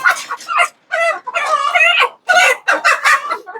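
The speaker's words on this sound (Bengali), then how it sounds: "মুরগি শব্দ দেখছেন কর কর কর কর করতেছে" Chickens kept on a balcony cluck close by in quick, overlapping bursts, a busy run of calls with only brief pauses between them.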